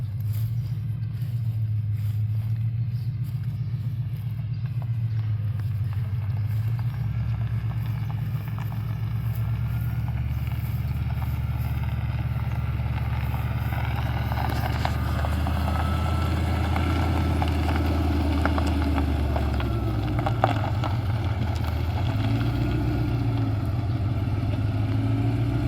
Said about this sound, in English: That cool blower whine.